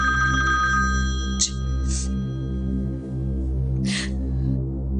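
An indoor telephone rings as a thin tonal trill with a few brief bright bursts, sitting over a strong steady low hum.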